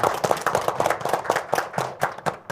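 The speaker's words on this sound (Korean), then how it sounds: "한분한분 소개해 드릴 때마다 뜨거운 박수 부탁드리겠습니다" Audience applause welcoming guests at a signing ceremony, a close, dense burst of rhythmic hand clapping with uneven swells, lasting a couple of seconds.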